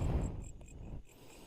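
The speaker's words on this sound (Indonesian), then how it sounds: "Jangkrik." Crickets chirp at night on a hillside near Bukit Jampes and Cemoro Songo, a steady shrill trill repeating close by over a low rumbling background.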